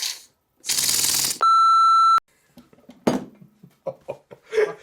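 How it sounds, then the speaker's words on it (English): An old, rusty single-cylinder model marine steam engine for a model boat is run on compressed air in a workshop: a loud burst of rapid chuffing, then a sustained piercing whistle-like tone, followed by scattered clanks and small knocks. "a small single-cylinder marine steam engine suitable for powering a model boat"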